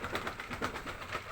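Beauty homer pigeons in a pigeon loft give off soft, repeated cooing pulses in a steady rhythm, close by, with a faint background hum and no talking.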